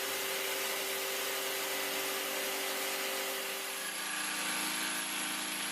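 Bosch GST Professional jigsaw cutting wood with a dust extractor attached: a loud, continuous, even whirring buzz with the extractor's airy roar blended in, steady throughout and easing slightly near the end.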